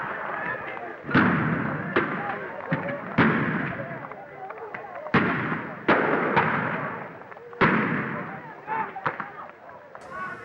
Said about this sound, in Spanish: Escuchan también algunos disparos de armas de fuego.